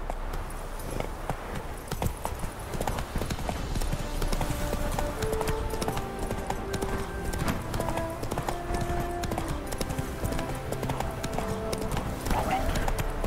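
A horse's hooves clip-clop at a quick, even gait in The Witcher 3 over a dense game soundscape, with someone talking throughout on top of the hoofbeats.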